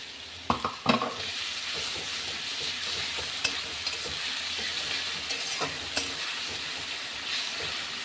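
Onion and ginger-garlic paste fry in a pan for chicken bhorta, giving a steady hiss of sizzling oil with sharp scrapes and knocks of stirring scattered throughout, close and moderately loud.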